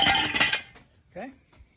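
A metal pan handled in a garage during Miata transmission work, with a burst of clattering metallic clinks and scrapes up close, followed by a few lighter knocks and a brief voice.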